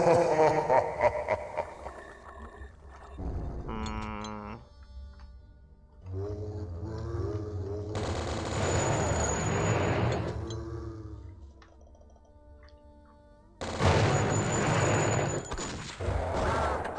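Gunfire in the Blood video game with the DeathWish mod: bursts of rapid shots and fusillades alternate with quieter stretches of tonal game sounds, loud and close, with no talking.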